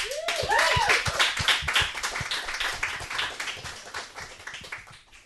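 An audience claps for a singer coming onstage at a love-songs show, a crisp burst of hand claps that swells, then thins and fades over several seconds, with a brief vocal whoop near the start.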